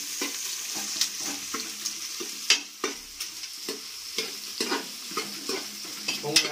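Onions frying in a pan for biryani until reddish, a continuous close sizzle broken by repeated ladle clanks and scraping as they are stirred, with no talking.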